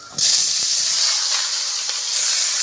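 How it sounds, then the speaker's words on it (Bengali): Dry chillies drop into hot oil in a wok, setting off a sudden loud, continuous sizzling hiss that holds steady for a couple of seconds. "কড়াই গরম হয়ে গেছে দিয়ে দেব তেল ফোড়নে দেব ফোড়ন আর লঙ্কা শুকনো দিয়ে দেব"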